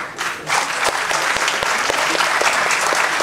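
An audience claps at the Tamil audio launch event for Kaalangalil Aval Vasantham, a dense, even roar of applause with sharp individual claps standing out, steady and fairly loud throughout.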